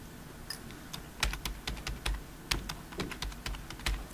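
Clicky computer keyboard typing at a desk while renaming an item in BIM software, a burst of quick irregular keystrokes, close and fairly quiet, with no talking.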